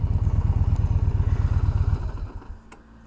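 A Yamaha XV950 Racer motorcycle's engine idles loud and close with a deep, steady throbbing pulse, then the rumble slows and fades toward the end as it winds down.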